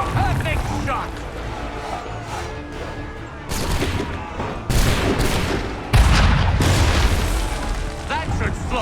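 Musket gunfire in an Assassin's Creed 3 Remastered battle against redcoats, with repeated loud booming volleys and crashes over a busy battlefield din, mixed with voices and game sound.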